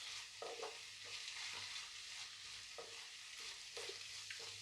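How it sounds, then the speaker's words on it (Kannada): Ginger garlic paste frying with onions in oil for a Coorg-style chicken fry, a soft steady sizzle with repeated spoon strokes scraping the pan at an unhurried rhythm, no voices. "ಇದಕ್ಕೆ 1 ಸ್ಪೂನಷ್ಟು ಶುಂಠಿ ಬೆಳ್ಳುಳ್ಳಿ ಪೇಸ್ಟ್ ಹಾಕೋತಿದ್ದೀನಿ. ಇದು ಸ್ವಲ್ಪ ಚೆನ್ನಾಗಿ ಫ್ರೈ ಆಗಬೇಕು."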